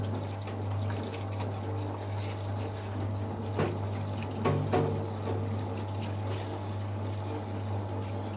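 Water runs and trickles steadily from a car's front differential during disassembly in a workshop, with a couple of louder splashes midway over a constant low hum.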